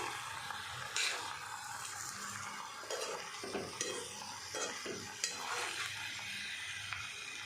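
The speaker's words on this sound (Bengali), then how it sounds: "একটু নরম হোক পেঁয়াজটা, চলুন" Onions frying in a pan, a steady sizzle with repeated scraping strokes of a spoon stirring them through the whole stretch at close range, with no talking.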